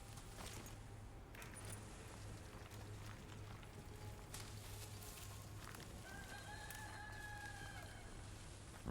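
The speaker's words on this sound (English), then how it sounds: "Rooster noise." A rooster crows in the video game Death Stranding 2, a faint, somewhat distant call rising over a steady low hum and ambient game noise.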